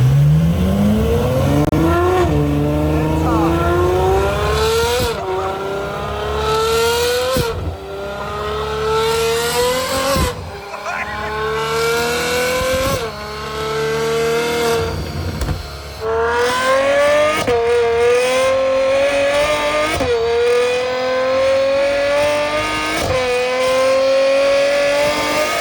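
A modified Ferrari F12 V12 roars on a dyno, climbing through repeated full-throttle pulls with sharp upshifts every few seconds, the engine pitch rising steadily each time before dropping back, loud and close with no talking.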